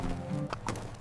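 Horses led calmly into a harvest facility, hooves clip-clopping in a brief, close burst of a few irregular footfalls over a low background rumble.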